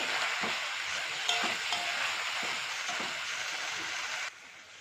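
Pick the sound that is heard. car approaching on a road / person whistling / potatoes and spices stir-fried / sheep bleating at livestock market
potatoes and spices stir-fried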